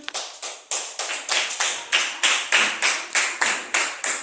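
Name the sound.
class clapping hands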